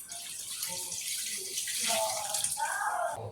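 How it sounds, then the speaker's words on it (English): Water pours in a steady splashing stream into a pot of simmering black-eyed peas, moderately close and fairly soft, growing a little brighter toward the end. "I'm gonna go ahead and pour a little bit more water in here"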